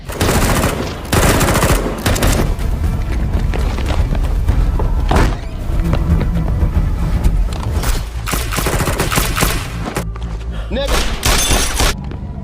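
Shootout in an action film: dense, loud bursts of automatic gunfire and impacts running almost continuously, with brief pauses and a dramatic soundtrack underneath.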